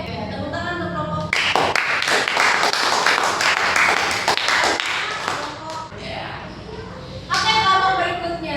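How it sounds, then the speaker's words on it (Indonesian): A classroom of students claps for a student group after its presentation on a solar panel model, bursting into dense, close clapping for several seconds before fading, with talking before and after. "Oke, tepuk tangan untuk kelompok."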